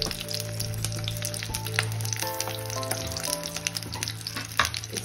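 Stuffed capsicum frying in a pan with black salt, a dense crackling sizzle with scattered pops and occasional utensil clinks, close and steady with no talk.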